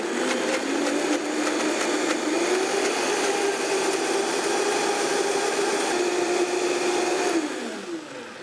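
A blender whirs steadily at high speed, blending pesto with olive oil; the loud, continuous motor drone holds even throughout before its pitch sags slightly near the end, with no talking.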